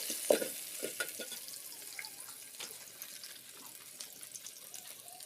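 Onion frying in oil, a faint continuous sizzle with a few light stirring clicks and knocks, fairly quiet and close.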